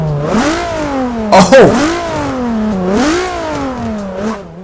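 A Nissan VQ35-powered Infiniti G35 engine in a driving video game revs up and down in smooth rising and falling sweeps, with a brief clattery burst near the start and a short exclamation heard over it.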